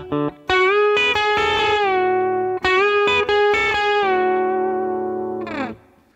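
Electric guitar plays a pedal-steel-style lick with bent notes swelling and releasing, sustained and effected, ending in a fading ring.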